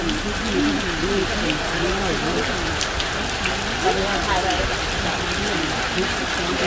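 Rain falls steadily on a surface beside burning incense sticks at a temple, a constant close patter running throughout under faint background voices.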